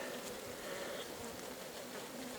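A soft, steady buzzing of many honeybees at a hive in spring, faint and continuous, with no voices.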